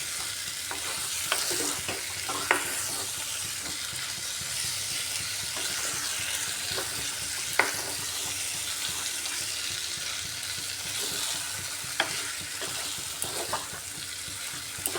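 Pointed gourd being stir-fried with gram flour and spices, a steady close sizzle broken by sharp scrapes and clicks of a spatula against the pan at irregular intervals, with no talking.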